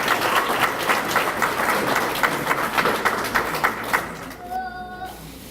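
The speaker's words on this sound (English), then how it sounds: "Give Vivica a round of applause, please." Applause from a banquet crowd for a scholarship recipient at the 17th annual Doug Smith Memorial Banquet, with steady dense clapping for about four seconds that then thins out, followed by a brief faint tonal sound at the end.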